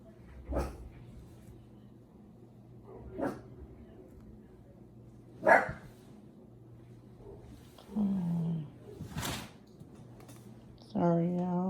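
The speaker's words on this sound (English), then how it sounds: "my dog heard a dog and he go crazy" A dog barks and whines excitedly indoors in short bursts, with several sharp yelps and a few longer, whining howls spread across the stretch.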